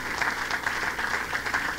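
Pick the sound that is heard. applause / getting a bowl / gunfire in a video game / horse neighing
applause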